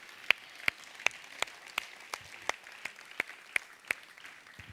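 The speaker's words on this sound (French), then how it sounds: "il y a une église qui dit Amen et qui applaudit ce que Dieu va faire encore et encore" Sparse, faint applause from a church congregation, about a dozen separate distinct claps at a slow, fairly even pace, heard alone and at a distance.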